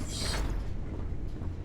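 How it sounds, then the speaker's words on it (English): Heavy machinery hums and grinds with a creaking mechanical texture in a moon-surface area of the video game Starfield, a steady low drone with a brief brighter scrape at the start. "There is heavy machinery operating in this area."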